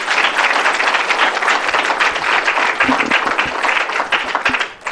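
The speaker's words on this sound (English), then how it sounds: "give him a round of applause" A crowd at a Black History Month community gathering breaks into loud, sustained applause, many hands clapping together at a steady level before it trails slightly near the end.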